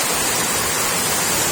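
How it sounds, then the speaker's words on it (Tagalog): Heavy typhoon rain pours down with strong wind during Typhoon Carina, a dense, unbroken roar of water and gusts that holds steady and loud throughout, with no voices. "Sobrang lakas ng ulan. Ang tubig. Lakas ng hangin."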